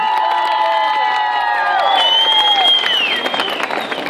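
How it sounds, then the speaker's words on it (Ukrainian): An audience applauds and cheers loudly, a steady wash of clapping with whoops and tonal shouts rising over it. "Ваші оплески окремі Наталії."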